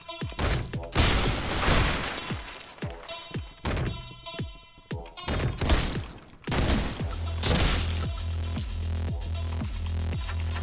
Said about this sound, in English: The shotgun is, oh God, really good.